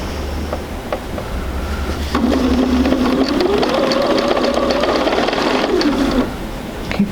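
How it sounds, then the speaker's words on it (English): A sewing machine stitches pieces of quilt fabric at a quarter-inch seam, a loud close motor whir that speeds up and hums steadily for about four seconds, then stops. "I want to make sure that I start sewing right in that valley"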